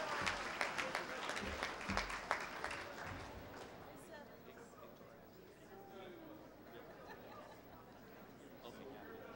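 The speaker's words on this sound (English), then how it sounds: "We'll give a big hand of applause for our second group" Audience applause at a high school graduation ceremony, a dense burst of clapping that is loudest in the first few seconds and then thins into softer scattered claps and crowd murmur.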